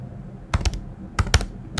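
Keys are pressed on a computer keyboard while a password is entered, giving two short clusters of close, crisp clicks separated by a pause.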